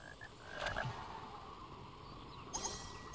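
A chocolate frog croaks in a Harry Potter video game, a couple of soft, close croaks over a steady game background with no talk.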